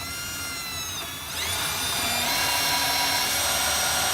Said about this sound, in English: We're going to drill right where we put our yellow marks.